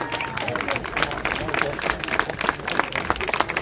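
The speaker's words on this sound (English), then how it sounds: "Give him an absolute round of applause again, guys" Protest crowd in Oldham at a Parents Against Grooming demonstration breaks into sustained applause, a dense outdoor patter of many hands clapping at once, steady and fairly close, with crowd murmur underneath.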